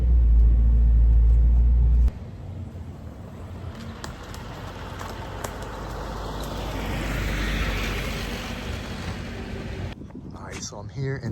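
A car with an upgraded engine pulls away: a heavy low rumble opens strongly, then settles into a steadier road drone that swells gently as it drives off.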